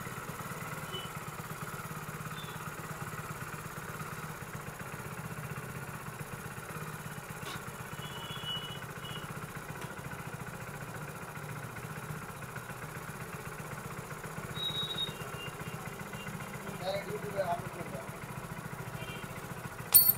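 A Hero Splendor BS6 motorcycle with poor tuning idles at low RPM, giving a quiet, steady engine putter that keeps going throughout, with a few faint clicks and a brief louder burst at the very end.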